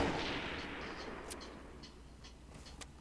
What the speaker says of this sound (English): is that you shooting off rockets?